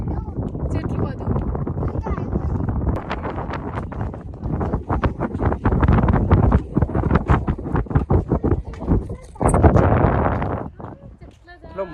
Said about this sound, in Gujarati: કેટલું મસ્ત વાયરો આવે